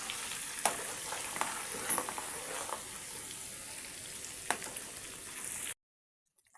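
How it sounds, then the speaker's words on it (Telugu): Ginger-garlic paste frying in oil for a raw prawn pickle gives a steady, soft sizzle with faint crackles for several seconds before cutting to silence. "ఇప్పుడు దీన్నంతా మంచిగా ఫ్రై చేసుకోండి,"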